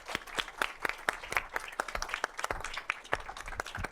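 An audience at a panel discussion gives a panelist a round of applause, with distinct hand claps rippling steadily through the room at moderate volume, fairly close, with no talk over it.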